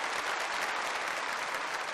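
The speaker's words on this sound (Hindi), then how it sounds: "तो एक ताली तो बजाओ कि हाँ वी कैन" A hall full of women sarpanches at a sanitation convention in Gujarat applauds together, a dense, even wash of clapping that holds steady and fills the whole stretch, heard alone without speech.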